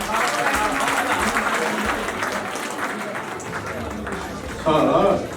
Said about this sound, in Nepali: यो सबैले बधाई स्वरूप टिकाजीलाई तालीले बधाई दिउँ